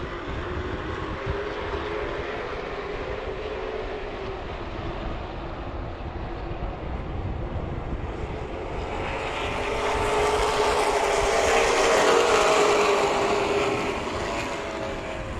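Race cars charging into turn one at Irwindale Speedway, three wide just after the green flag, as a loud, steady engine roar that swells for a few seconds with no talk over it.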